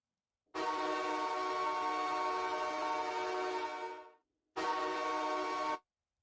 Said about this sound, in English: honk the train for us